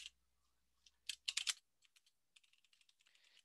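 Typing on a computer keyboard while working in a Word document: a faint patter of key clicks, then a brief flurry of louder keystrokes, followed by lighter, scattered taps.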